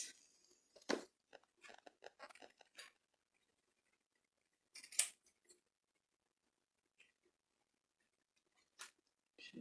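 Scissors trim craft material while making pumpkin shelf sitters, giving a few quiet, scattered snips and clicks in short bursts, separated by long silent gaps.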